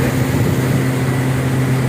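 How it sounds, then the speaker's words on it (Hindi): A motorboat engine runs on the Mangla Dam reservoir, a steady loud low hum with a constant drone and rushing noise throughout, no voices. "ये बोट चला रहे हैं मुफ्ती साहब।"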